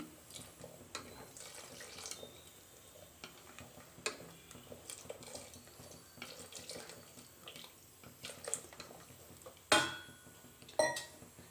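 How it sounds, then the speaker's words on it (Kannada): Water poured into a cooker pot of chana masala, a quiet continuous pour with faint kitchen clatter, ending in a couple of sharp metallic knocks near the close. "ಇವಾಗ ನೀರು ಇನ್ನೊಂದು ಸ್ವಲ್ಪ ಆ್ಯಡ್ ಮಾಡ್ಕೊತೀನಿ."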